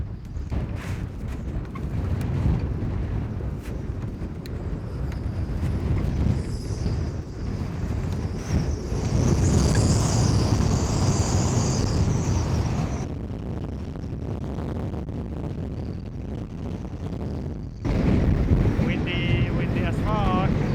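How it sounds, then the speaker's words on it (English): Strong winter wind gusts around a boat moored at a beach in Greenland, a steady loud roar with buffeting on the microphone that rises and falls throughout. "Windy as fuck."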